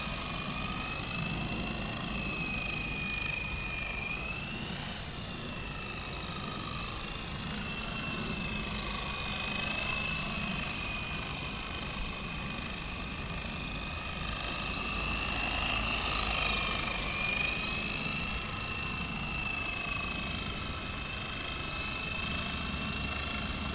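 A Blade CX4 RC helicopter flies outdoors, its small rotor and motor giving a continuous high-pitched whine that rises and falls with maneuvers and swells louder midway, with no talking.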